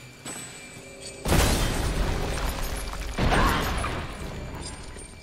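Pipe bomb blast in Resident Evil Village: two heavy booming explosions about two seconds apart, each a loud broadband burst that rumbles and decays slowly under a steady game ambience.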